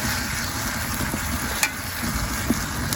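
Rib meat cooks with a steady, close frying sizzle that hardly changes, broken by a couple of faint sharp clicks.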